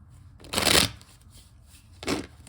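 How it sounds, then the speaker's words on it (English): Tarot cards being shuffled, two distinct riffling bursts close up, the first longer and louder, the second briefer, with quiet room tone between. "I remembered to shuffle."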